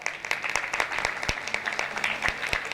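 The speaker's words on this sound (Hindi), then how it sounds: "तालियां बजती रहनी चाहिए" Scattered, fairly sparse clapping from an audience at the 12th Kaushambi Lok Rang Mahotsav festival in 2024, individual claps standing out over a soft background hum.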